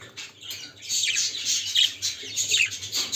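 Pet birds at a nest box with chicks give close, busy chirps, tweets and short squawks in quick overlapping bursts, with no talking.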